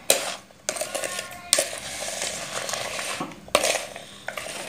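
Raw mango pickle being mixed with salt makes clattering spoon-and-bowl scrapes and clinks in uneven bursts, close and moderately loud, with a few sharper knocks and brief pauses between strokes, no voices.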